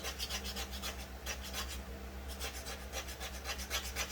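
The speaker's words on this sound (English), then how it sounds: "I'm just taking the end of the knife and just going over it like that." A knife edge scrapes back and forth over the impeller of a Stihl BR 600 backpack blower, making quiet repeated rasping strokes in a steady rhythm with no voices.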